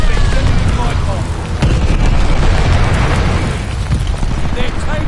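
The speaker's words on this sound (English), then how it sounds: "Friendly sending a glide bomb." Glide bomb detonating in Call of Duty Vanguard Zombies, a loud sustained rumbling blast with crackling bursts that fills the whole stretch and rolls on without a break.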